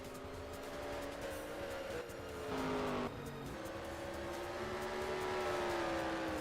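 Race cars lapping Ti-City Raceway in a racing video game, their engines layering into a continuous droning whine with several overlapping pitches that rise and dip as the cars roll past, with no talk.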